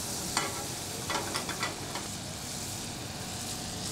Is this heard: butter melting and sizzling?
yes